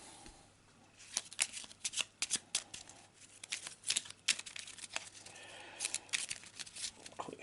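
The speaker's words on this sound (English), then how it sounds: "Quick shuffle and a cut." A deck of Arkham Horror game cards is riffled and shuffled close by, with quick papery bursts and flicks coming in uneven clusters over several seconds.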